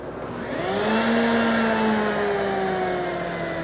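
A wood router spins up and cuts a coping pass on a sled-held workpiece, a loud close whine that rises in pitch as it comes up to speed, then holds steady with a slight dip while cutting.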